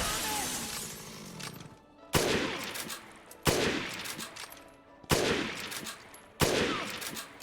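Gunfire in Dead Rising Remastered: five loud, sharp shots spaced roughly a second apart, each a sudden crack with a ringing, decaying tail and scattered debris clatter between them, no voices.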